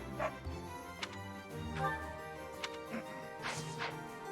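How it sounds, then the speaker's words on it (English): Dog in the video game Fire Emblem Three Houses, a series of sharp barks and yips spaced across the moment over layered game music, fairly close and distinct. "If I give you food, will you stop barking?"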